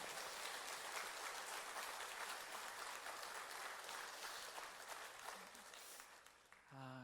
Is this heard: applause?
yes